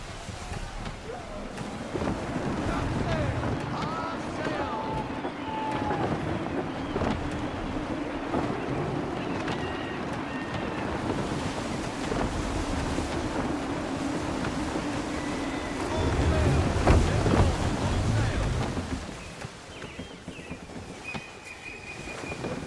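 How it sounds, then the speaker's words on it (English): Gusty wind at sea under sail in Assassin's Creed 3, a steady roar of wind and water around the ship, swelling louder for a few seconds late on, with faint voices in the background. "Gusty winds can be difficult to manage."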